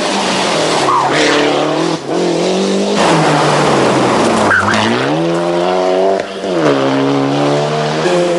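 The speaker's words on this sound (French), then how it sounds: "avec son turbo et son nouvel échappement trop assourdissant" A turbocharged rally car with a loud new exhaust roars hard through a special stage, its engine note climbing and dropping through repeated gear changes with brief lift-offs, loud and close throughout.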